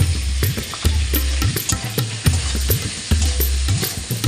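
Ground spices, coriander and cumin, fry in a pan under steady stirring, a loud continuous sizzle broken by rhythmic scraping strokes of the spoon about twice a second, close up and without speech.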